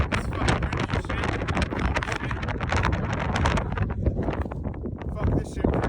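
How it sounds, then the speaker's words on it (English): Strong wind sweeps across the summit of Glacier Peak in Washington, roaring and buffeting the microphone in a loud, continuous broadband rush with gusty bursts throughout. "It's fucking windy as shit."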